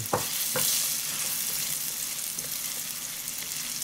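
Carrots and luncheon meat stir-fried in a pan give a loud, continuous close sizzle, with a few sharp clatters of utensil strokes near the start and no speech.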